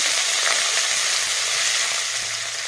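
Onion, garlic and drumstick leaves hit hot oil in a pan, a loud, dense, steady hiss of frying that eases slightly toward the end.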